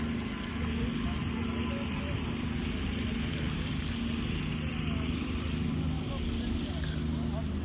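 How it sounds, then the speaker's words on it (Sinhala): A boat moves along a river through a snow-covered French city, its engine a steady low rumble mixed with wind buffeting the microphone, continuous and fairly close throughout. "බෝට් රයිඩ් එහෙම යනවා"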